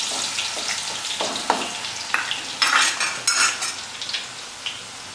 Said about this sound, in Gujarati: હવે આપણે તેમાં લસણની પેસ્ટ નાખીશું,